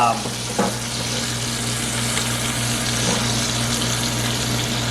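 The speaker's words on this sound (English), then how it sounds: "we're going to start basting as soon as this butter melts pretty good here" A pork chop frying in a pan of melting butter while being basted gives a continuous crackling sizzle with a steady low hum underneath and a few sharper pops near the start.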